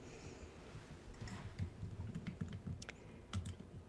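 Quiet, close typing on a computer keyboard, a run of soft irregular key clicks and taps with a few louder strokes, heard alone without talk.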